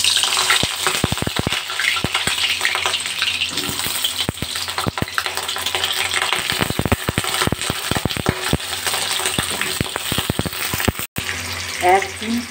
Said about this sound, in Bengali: কড়াইতে পরিমাণ মতো তেল দিয়ে দিয়েছি, তেল গরম হয়ে গেছে। এবার পটলগুলো আমি তেলের মধ্যে দিয়ে দেব।